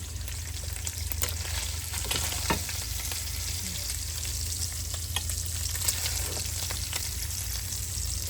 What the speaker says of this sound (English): I'm just going to use my slotted spoon and I'm going to pick it up.